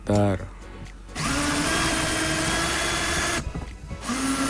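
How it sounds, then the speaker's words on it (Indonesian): A power drill boring a 12 mm hole for a smart door lock whines steadily at high speed for a couple of seconds, pauses briefly, then starts up again, with a short voice at the start. "Nah kita bor ini pakai mata bor diameternya 12 mili ya"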